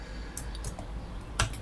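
Keys tap on a computer keyboard while code is written in an editor, a few light, sparse clicks close by.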